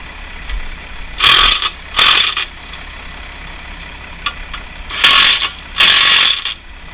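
A ratchet wrench tightens bolts on dual wheels being fitted to an International Harvester 1466 tractor, loud close bursts of rapid clicking in two pairs separated by a pause, with no voices.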